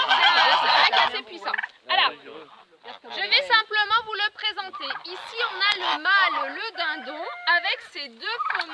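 A male turkey gobbles during a courtship display on a farm in the Loire, its rapid warbling gobbles coming close and loud in repeated bursts, mixed with overlapping talk throughout.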